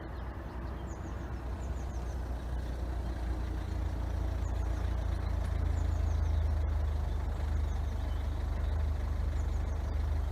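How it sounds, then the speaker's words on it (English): A car engine with an unhealthy running sound near a level crossing, a steady loud low rumble of heavy traffic idling and passing, with faint chirps above and no talk. "This car doesn't sound too healthy."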